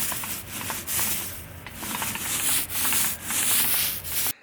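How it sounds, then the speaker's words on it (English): A paint roller spreads a full coat of paint over a repaired wall, making rhythmic, close swishing strokes that rise and fall in repeated passes before ending abruptly. "take the paint roller and give it a full coat"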